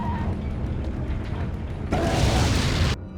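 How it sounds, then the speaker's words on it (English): Incendiary grenade going off in Resident Evil 4, a sudden loud roaring burst of flame that holds for about a second before cutting off, over steady game background noise. "How would you like a grenade of flame variety?"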